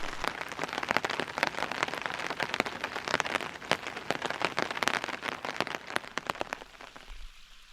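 Steady rain patters densely on a surface near Campbell Lake, a continuous close hiss of drops that thins out and eases toward the end.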